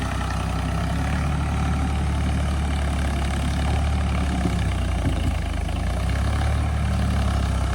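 A Ford tractor engine idles and rumbles steadily, a low, continuous throb close by that holds an even level throughout, with no one talking.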